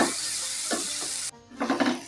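Fish masala with coriander leaves frying in a pan, a loud steady sizzle broken by scraping stirs, then a short dip before the sizzle and stirring pick up again, with no talking.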